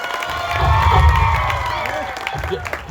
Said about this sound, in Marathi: थोडं वाजवा की टाळ्या